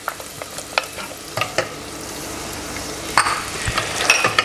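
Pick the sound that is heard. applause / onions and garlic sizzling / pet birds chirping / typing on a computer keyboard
onions and garlic sizzling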